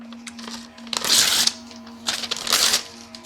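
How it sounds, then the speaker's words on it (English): Paper tearing in two loud ripping bursts close by, over a faint steady hum. "I just teared up some paper"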